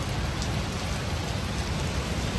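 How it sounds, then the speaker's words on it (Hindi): Heavy monsoon rain pouring down and drumming on surfaces, a dense, loud, unbroken hiss with no voices. "बारिश अभी तक चल रही है, रुकी नहीं है कब से की।"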